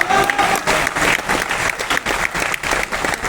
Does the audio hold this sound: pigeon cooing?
no